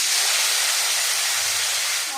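Onions for beresta hiss hard in hot oil, a dense, loud, even sizzle like rushing steam that holds steady from start to finish. The sound eases only slightly at the very end.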